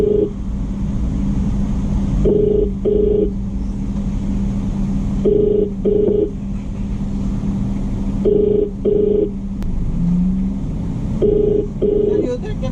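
A phone call placed from inside a Lalamove sedan: a ringback tone repeats in paired beeps about every three seconds over the steady hum of the car's interior.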